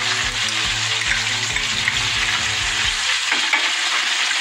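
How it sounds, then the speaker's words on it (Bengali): Chicken fries hard in a pan with a spoonful of onion paste, a steady loud sizzle with a low rhythmic churning underneath that fades toward the end; no one speaks. "চিকেনটা হালকা করে ভেজে নিয়ে এতে দেবো 1 চামচ পেঁয়াজ বাটা"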